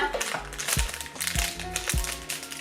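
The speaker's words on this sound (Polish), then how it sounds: "Muszę sobie wziąć nożyczki do tego." Scissors cut new earrings free from their packaging, with three sharp snips at a steady pace over soft crinkling of plastic.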